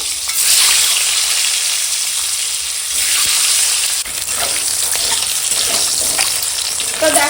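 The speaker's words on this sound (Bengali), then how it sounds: "এখন ডিমগুলো ভেজে নেব" Eggs frying in hot oil darkened from earlier aubergine frying, a loud continuous spattering sizzle close by, holding steady with slight surges and no voices.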